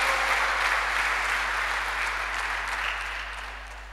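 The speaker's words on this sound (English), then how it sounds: "A thunderous clap to God." A church congregation gives a thunderous round of applause, a continuous even roar of clapping that slowly fades, over a steady low hum.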